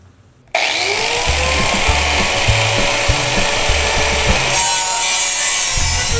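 A power tool cuts down a metal bed frame, starting abruptly and running as a loud, steady, high-pitched grinding whine close up, its pitch shifting slightly partway through.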